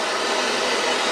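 Portable heater blowing steadily inside a large hunting blind, a continuous close broadband whoosh like a fan with no pauses and no voices.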